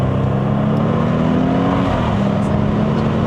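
2012 Audi S8 with a 4.0L TFSI bi-turbo V8 accelerating hard on a mountain road climb, a loud, steady engine drone heard close from inside the cabin, its pitch holding and then shifting slightly as it pulls.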